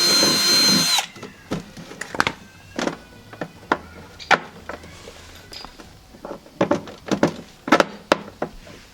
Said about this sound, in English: With a wobbly drill bit.